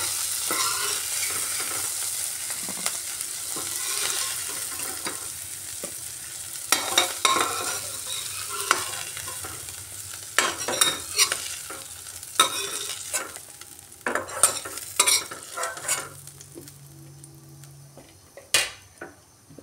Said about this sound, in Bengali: চিংড়ি মাছ আমি নামিয়ে নিচ্ছি।